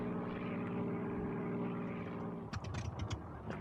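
Steady propeller aircraft engine drone from the Air Conflicts: Secret Wars flight game, loud and continuous with a rhythmic harmonic hum, broken after a few seconds by sharper clattering bursts and thumps over the engine noise.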